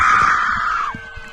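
A spectator at a high school baseball game lets out a single sustained high-pitched scream that trails off sharply before the end, loud and somewhat distant amid crowd noise.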